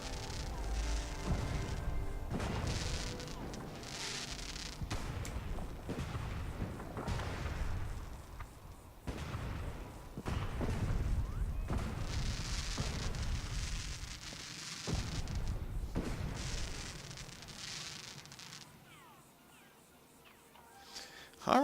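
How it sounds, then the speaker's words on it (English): Fireworks in the video game Fallout 4 boom and crackle in repeated bursts, a dense rolling sequence of explosions with sizzling tails, moderately loud and steady over about twenty seconds. "Nice little fireworks display."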